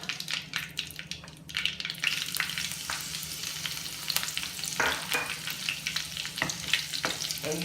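Mustard seeds and green chilies fry in hot oil with a steady close sizzle, broken by sharp crackles and pops and a few stirring scrapes in the pan.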